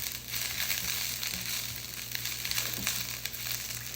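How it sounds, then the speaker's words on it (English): Broccoli sautés quickly in a pan and is tossed with a sauté spoon, giving a continuous close sizzle with light clattering and crackling, and no voices. "While our broccoli is cooking up here very quickly, and notice I'm using our saute spoon."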